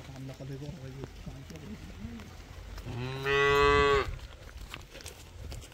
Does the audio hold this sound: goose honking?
no